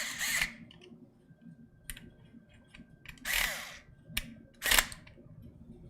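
An electric screwdriver on a light torque setting drives screws into a soft-metal radiator inside a Thermaltake AH T200 gaming PC, heard as several short, close whirring bursts separated by quiet pauses and small handling clicks.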